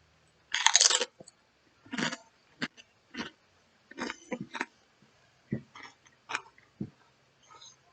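A cheddar-dusted snack being crunched and chewed close up, with a sharp first bite followed by about ten separate crunchy chews, spaced by short quiet gaps.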